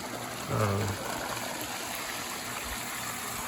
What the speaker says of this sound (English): most of the water that pump at the dock is pumping is coming out at, here at the top of the stream.